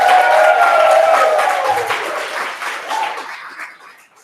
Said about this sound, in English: I think they need a little bit more clapping.